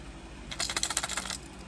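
A heavy fishing lure with a big knocker rattles in a quick burst of bright, clicking shakes lasting about a second, close and fairly loud, with no talking.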